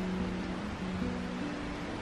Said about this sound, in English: I can hear